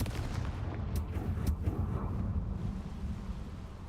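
Confringo blast spell cast in Hogwarts Legacy, a few sharp cracking bursts followed by a deep rumbling boom that rolls on and slowly fades, fairly quiet overall.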